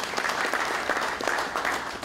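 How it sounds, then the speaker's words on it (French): A forum audience in Bamako applauds the Friedrich Ebert Foundation, dense sustained clapping from a large crowd, loud and even throughout with no pause. "Je vous demande d'applaudir la Fondation Frédéric Ebert"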